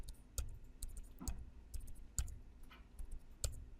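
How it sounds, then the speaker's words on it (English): Numbers are typed on a computer keyboard in a quiet room, with irregular soft key clicks and taps spaced across a few seconds. "So we just keep typing in numbers."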